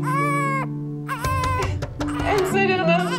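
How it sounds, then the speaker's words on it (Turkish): A distressed child cries loudly and continuously, with wailing sobs and strained, rising cries broken by brief catches of breath, close and dominant against a low steady hum. "Yalvarıyorum ağlama, içim parçalanıyor."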